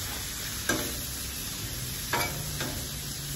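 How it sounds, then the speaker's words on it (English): Rice frying in grease in a pan while cooking teppanyaki, a steady sizzle underneath with a few sharp scrapes and stirring clatters of a utensil against the pan, close by and with no talking. "I'm going to keep frying this up"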